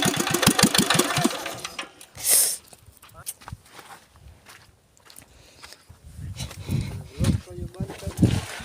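A tractor engine on a farm chugs loudly with a rhythmic low throb, then cuts out into a quieter stretch with footsteps and handling noises before the engine rumble returns, with voices talking nearby.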